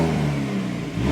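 A 2023 Hyundai Elantra N engine in eco mode, running with a steady, subdued mid-pitched hum close by, without strong throttle surges, alone with no talk.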